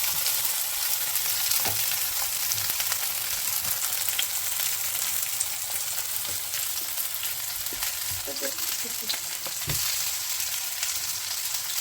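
Eggplant slices frying in hot oil, a continuous bright sizzle with scattered small pops and crackles, steady and close throughout with no talking.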